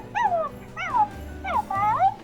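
A toy dog backpack gives four short electronic barks and yelps, each a whiny rising-and-falling cry, evenly spaced and close by.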